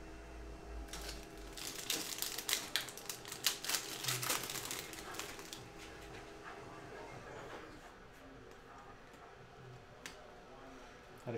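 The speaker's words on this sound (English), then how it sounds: "let's just print this out" A printer runs off a printed list during a baseball card hobby pack break, giving rapid, busy mechanical clicking and rattling for several seconds before settling into a quieter hum.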